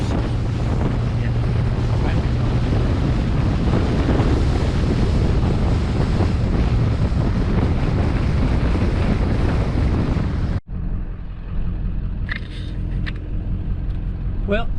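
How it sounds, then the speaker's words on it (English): Strong wind at Lake Mead battering the microphone, a loud continuous roaring rumble that cuts off abruptly, followed by quieter ambience with a few faint clicks. "Windy as can be out here, so I'm not going to have very good audio once again"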